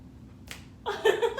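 A single sharp finger snap in a dance routine, heard close and alone, followed by a brighter burst of movement or claps.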